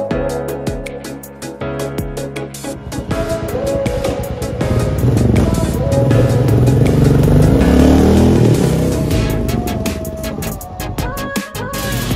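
A Royal Enfield Meteor 350 motorcycle passes by, its engine note building to a loud, sustained roar in the middle and then fading as it moves away, with no talking.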